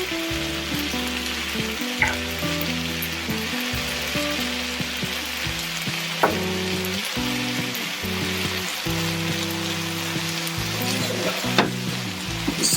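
Peppers and sugar sizzle in a hot pan for Sicilian caponata, a continuous frying hiss with occasional stirring clatters, heard under background music.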